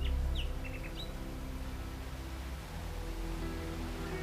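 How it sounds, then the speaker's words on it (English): A nightingale sings in a wood in a 1983 period drama. A few faint, quick chirps and whistles come early, then fade into a soft, steady outdoor hiss. "Do you hear the nightingale singing in the wood?"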